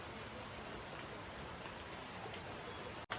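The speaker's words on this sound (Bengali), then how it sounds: "একটুখানি বৃষ্টিটা কমেছিল, আমি ভাবলাম থেমে গেল, ফের জোরে এসছে।" Steady rain falls the day after Cyclone Dana, a soft, even hiss of drops on surfaces that continues unbroken with no voices.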